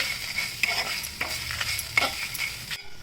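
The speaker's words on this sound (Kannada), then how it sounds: "ಇದನ್ನು ಹುರಿತಾ ಇರೋವಾಗಲೇ ನಾನು ಈ ಕರಿಬೇವಿನ ಸೊಪ್ಪು ಮತ್ತು ತೆಂಗಿನಕಾಯಿ ಕೂಡ ಹಾಕ್ಬಿಟ್ಟಿದ್ದೀನಿ" Curry leaves and grated coconut being roasted in a pan, with a soft sizzle and repeated scraping stirs at an irregular rhythm, close and moderately loud, stopping abruptly near the end; no one speaks.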